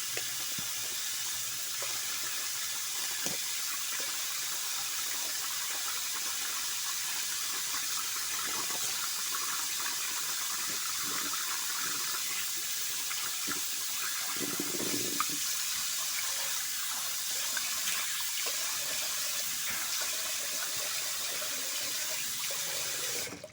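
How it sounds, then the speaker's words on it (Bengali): Water runs from a tap into a sink while someone washes their face, a steady continuous hiss of flow with occasional splashes, close and unbroken throughout. "এখন মুখ ধোবো।"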